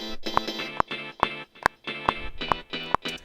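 A bright synth melody plays alone in steady, evenly spaced notes with sharp clicky accents, moderately loud and electronic in tone.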